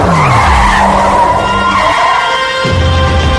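A car skids to a stop, its tires squealing loudly and close for several seconds as the engine drops away, a sharp cut near the end leaving a low rumble.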